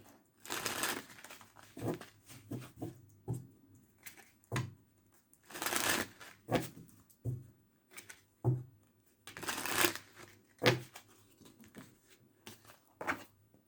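Tarot cards are shuffled by hand in repeated riffling bursts with short pauses between them, close and fairly crisp, with no voice.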